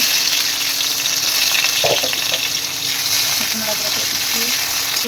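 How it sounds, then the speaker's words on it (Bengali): Potato pieces frying in oil in a home kitchen, a steady broadband sizzle that holds loud and close for the whole stretch, with a few faint clinks and a brief splashy knock partway through. "এবারে আলুটা ভেজে নেবো"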